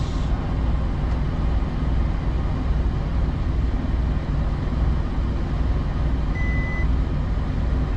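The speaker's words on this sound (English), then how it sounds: "got the microwave plugged in. You heard it beep" A single short electronic beep from a microwave oven sounds once near the end, faint against a loud, steady engine-like hum that runs throughout, inside a Peterbilt truck cab.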